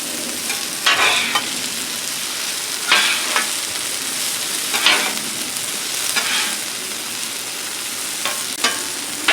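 Diced green tomatoes frying on a Blackstone griddle, a loud steady sizzle close up, punctuated every couple of seconds by scraping spatula strokes as the pieces are stirred and turned.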